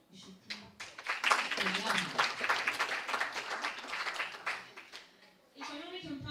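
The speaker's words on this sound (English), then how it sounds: "You should clap." An audience at an International Women's Day celebration claps and applauds for several seconds, a dense wash of hand claps that swells and then tapers off as a voice begins speaking.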